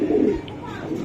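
A male racer pigeon coos close by in one soft, low burst, then fades, with a faint chirp in the background.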